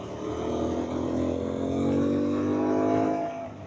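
Aprilia Tuareg 660 motorcycle fitted with an Akrapovic full exhaust, its engine droning close and loud, rising steadily in pitch as it accelerates.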